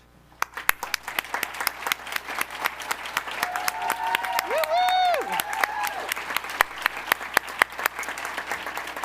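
A crowd applauds at a graduation ceremony for a chemistry and biochemistry program, with steady sustained clapping and a few sharp claps up close, plus a brief tonal murmur in the middle.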